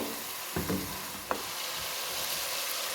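Masala for aloo gobi sautéing in a pan with a soft, even sizzle and a couple of brief stirring scrapes, close but fairly quiet, no voices.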